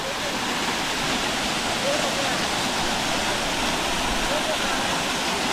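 Devle waterfall near Devarukh in Sangameshwar pours in a steady, loud, unbroken roar of rushing water, close and constant throughout.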